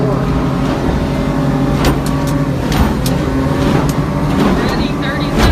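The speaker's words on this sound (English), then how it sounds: "Now both motors are running." Twin outboard motors on a Stabicraft 2900 boat run hard at speed, a loud, steady engine roar layered with rushing wind and water, and voices shouting faintly through it.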